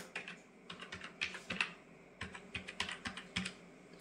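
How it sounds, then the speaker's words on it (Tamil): A password is typed on a computer keyboard: quick, uneven bursts of close, crisp key clicks that continue steadily. "ஸோ அதை கரெக்டாக டைப் பண்ணிக்கோங்க."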